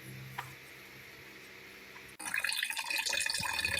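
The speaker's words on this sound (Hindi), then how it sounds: "3 से 4 पानी में इसको धोएंगे।" Running water splashes and swirls as chana dal is rinsed in a pot for a Narowal-style daal chawal recipe, a faint steady trickle at first that turns into louder, busier sloshing and pouring partway through, with no talking.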